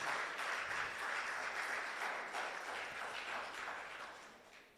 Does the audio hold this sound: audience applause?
yes